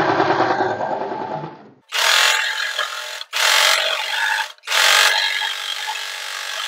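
A sewing machine stitching a four-tuck blouse runs in three loud, close bursts separated by short pauses, after an opening stretch of lower mechanical whirring; no one speaks.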